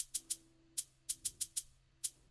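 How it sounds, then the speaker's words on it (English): A lone shaker-like percussion sample from a moombahton drop taps out short crisp bursts in an uneven rhythm, about ten hits over two seconds, fairly quiet with a faint tonal hum beneath. "It's basically just a shaker"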